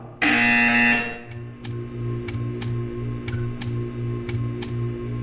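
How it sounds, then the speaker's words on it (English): A loud harsh buzzer in the video game Portal 2 blares for about a second, then stops, followed by a steady hum and a series of soft regular ticks. "You will hear a buzzer."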